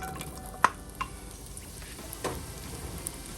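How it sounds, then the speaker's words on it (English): Carrots dropped into about three tablespoons of hot olive oil in a pot for red lentil soup, a quiet steady sizzle with a few light clicks of a spoon. "with about three tablespoons of olive oil. I'm gonna go in with my carrots."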